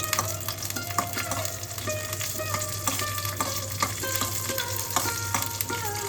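Slit green chillies with nigella seeds frying in hot tempering oil for a chilli curry, a steady close sizzle with crackles and occasional clinks of a spoon, no talking.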